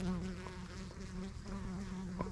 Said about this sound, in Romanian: Albinuțele se aude și ele